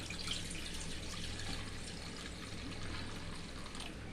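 Water pours steadily into a pressure cooker while rice and lentils are being prepared in a home kitchen, a continuous close splashing flow with no talk over it.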